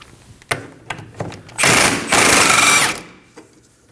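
A 19mm socket on a power tool spins out a rear lower control arm bolt on a 2011-2016 Kia Optima, a loud, continuous buzzing whir of about a second and a half after a few light knocks.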